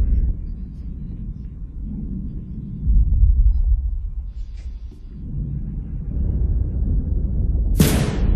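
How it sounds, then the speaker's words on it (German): Deep thunder rolls on for several seconds in a continuous low rumble, swelling and fading with heavier surges partway through, before a sharp bright burst of noise near the end. "lustig, wenn es so donnert"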